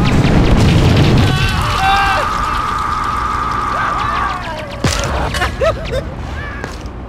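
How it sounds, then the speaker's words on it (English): Rocket launcher blasts in the top-down game GTA2 multiplayer, with a loud booming explosion at the start and sharper hits later, mixed with game sounds and some talk. "Rocket launcher."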